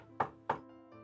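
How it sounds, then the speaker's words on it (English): Two firm knocks on a wooden door in the game Cinderella Phenomenon, evenly spaced and close, over a steady background music bed. "a knock sounds on my door"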